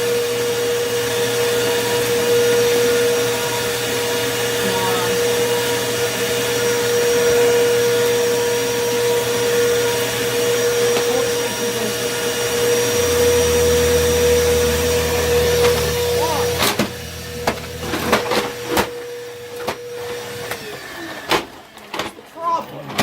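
A Bissell Powerforce bagless vacuum cleaner whines loudly and steadily at close range with a droning hum. The motor shifts pitch, then cuts off, and clicks and handling noises follow.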